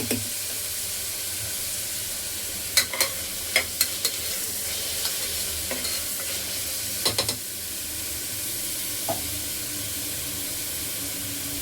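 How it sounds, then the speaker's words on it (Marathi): Chopped onion frying with ginger-garlic paste in hot oil, a steady broad sizzle with a few sharp clicks of stirring against the pan, close and continuous with no talk. "कांदा चांगला लाल झाल्याच्या नंतर मी हे पेस्ट ॲड करते"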